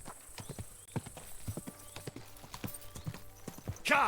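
Horse hooves clip-clop in a steady walking rhythm in Kingdom Come: Deliverance II, close and fairly quiet, with a short whinny near the end and a voice speaking briefly.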